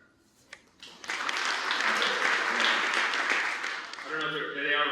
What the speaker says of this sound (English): That way the folks at home can hear that's the round of applause.